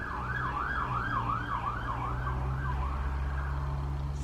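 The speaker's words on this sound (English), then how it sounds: "Sirens." A wailing emergency siren cycles steadily up and down over a constant low traffic rumble, loud and close for the whole stretch, with no voices.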